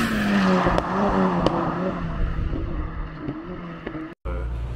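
A loud, throaty tuned Ford Fiesta ST engine (1.6-litre, about 400 hp) revs and roars continuously, its pitch rising and falling, with a brief sharp cutoff near the end.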